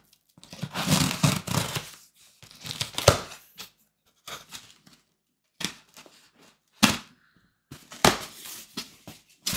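Close-up bursts of scissors cutting, tearing and crinkling open comic book shipping packaging, irregular and intermittent with short silent gaps between.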